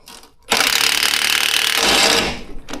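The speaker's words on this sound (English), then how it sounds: "I'm going to use the impact wrench" Impact wrench spinning off an 18mm bolt on a Mercedes W163, a loud continuous mechanical whirring rattle lasting about two seconds after a brief quiet start, then cutting off.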